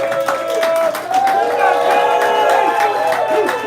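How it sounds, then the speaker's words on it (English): A big crowd at a Friday Night Live gathering of the kayak fishing community at Southern Moon Outfitters, cheering and calling out together in a dense, continuous roar, with voices shouting over the noise. "This is probably the biggest crowd that we've had for a Friday Night Live."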